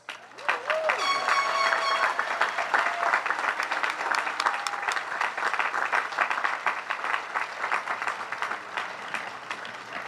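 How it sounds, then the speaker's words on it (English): Sustained applause from a crowd at the Berkeley Institute graduation ceremony for the class of 2024, a steady roar of many hands clapping for about ten seconds with a few cheers and whistles early on. "Let's celebrate our graduates with a hearty round of applause."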